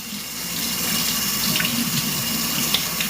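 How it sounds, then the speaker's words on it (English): A kitchen tap runs steadily while hands are rinsed under it, a continuous close rush of water with small splashing changes and no voices. "I'm going to give my hands a rinse."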